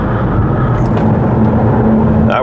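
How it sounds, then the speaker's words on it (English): Ford Police Interceptor Utility engine in pursuit mode, a loud steady close-up drone from inside the cabin with engine pitch rising briefly near the end as it downshifts. "That worked. See, it downshifted."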